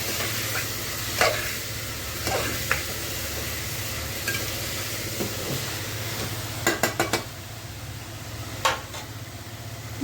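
A spoon stirs vegetable khichdi with potatoes in a pot, giving scattered scraping clinks against the metal over a steady low sizzle from the stove, with a few sharper knocks near the end.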